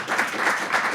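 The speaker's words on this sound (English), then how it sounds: "Let's give a big round of applause to Sophia." An audience at a live startup pitch event gives a round of applause, a steady wash of many hands clapping at moderate volume, slightly distant, with no talking.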